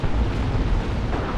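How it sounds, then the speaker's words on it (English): Dense, continuous booming rumble of artillery shells exploding in the Dawn of War 2 Retribution strategy game, loud and close, the blasts merging into one roar with no voices. "Looks like we have a ton of artillery drop on both sides"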